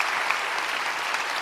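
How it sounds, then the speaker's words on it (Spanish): Congregation applause at a church worship service, a dense steady wash of many hands clapping at moderate volume, continuous throughout with no speech over it. "Denle ese aplauso al Rey bendito."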